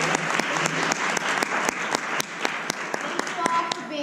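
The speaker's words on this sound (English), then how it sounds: "Let's give a round of applause" Sustained audience applause at an informational session, a dense steady wash of many hands clapping with a few sharper individual claps standing out near the front, continuing throughout.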